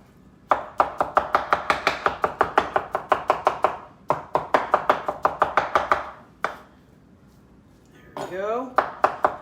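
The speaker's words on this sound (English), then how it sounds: "we're gonna finish chopping this chicken up" A knife chops cooked chicken on a cutting board for Tex Mex egg rolls in a home kitchen, in fast, even bursts of sharp knocks with short pauses between them and a brief clatter at the end.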